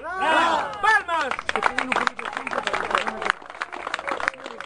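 Audience clapping at a lawyers' breakfast event, a brisk patter of many hands that follows a man's loud speech and continues under chatter and crowd noise.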